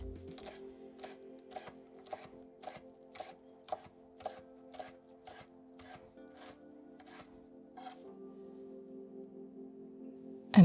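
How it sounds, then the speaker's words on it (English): A knife slices green onion, basil and cilantro on a cutting board, giving a steady series of crisp, evenly spaced cuts over a low hum before stopping. "I'm slicing up some green onion, slicing up some basil, and slicing up some cilantro."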